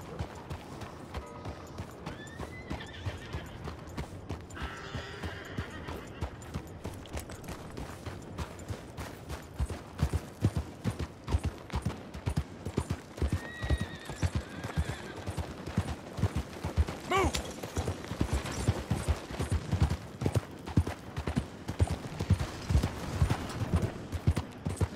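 Horse galloping in the video game Red Dead, rhythmic hoofbeats building steadily louder, with brief bursts of gunfire now and then.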